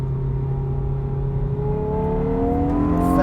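A CTC Performance-tuned Hyundai i20N accelerating on a bumpy road, its engine note climbing steadily and loud from inside the cabin, with no talking.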